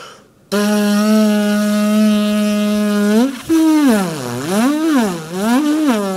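A brass instrument holds a loud, steady note, then the pitch swoops and wavers up and down repeatedly as the player pulses the air, a buzzy wobbling tone with no talk.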